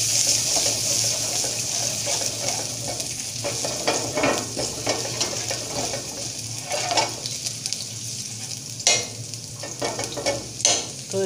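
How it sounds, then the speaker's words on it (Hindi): Steady sizzling of ginger and garlic frying in a pan, with scraping and stirring sounds rising and falling throughout, fairly close. "तो अदरक लहसुन ब्राउन कर लेंगे।"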